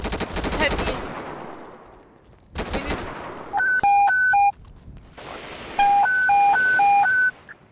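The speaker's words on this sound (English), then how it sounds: "The black Lambo is shooting at us" Automatic gunfire from a black Lamborghini in a video game, loud dense bursts at the start and again mid-clip, with electronic beeping tones breaking in between.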